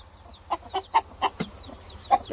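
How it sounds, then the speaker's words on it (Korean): Hens clucking among newly hatched chicks in a backyard flock, a series of short, fairly close clucks and soft peeps in a quick irregular rhythm. "닭을, 닭들이 알 품어서 병아리가 태어났어요."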